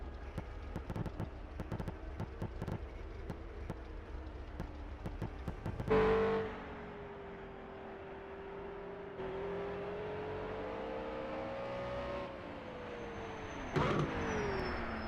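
Race cars around the pit lane at a two-hour Tourist Trophy race at Dundrod: rapid clattering bursts give way to a car passing with a rising then fading engine tone, followed by another brief surge.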